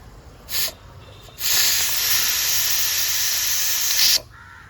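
Pressure cooker used for cooking chicken, releasing leftover steam: a short hiss burst, then a loud sustained spray of steam for about three seconds before it cuts off, close by with no talk.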